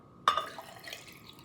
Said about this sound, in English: Then I'm going to add more water.